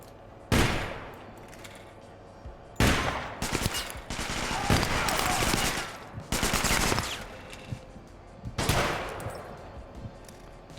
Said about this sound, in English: Just one shot with the Harbinger.